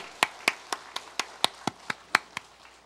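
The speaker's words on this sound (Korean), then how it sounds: "우리 하나님 앞에 영광의 박수 드리도록 하겠습니다." A church congregation at a Sunday worship service claps in praise, giving about ten evenly spaced, distinct claps that ring out clearly in a quiet hall with no talking.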